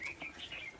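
A quick burst of high chirps rings out from caged birds at a Vietnamese bird market, a few bright tweets in under a second against soft background noise.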